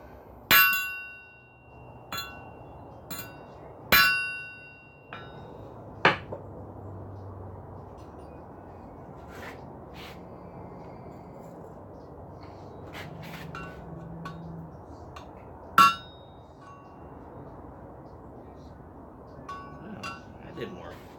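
A hammer strikes a ring of steel pipe being shaped into a bell, a few bright metallic clinks and ringing pings spaced apart over a low quiet background, with speech faint in between.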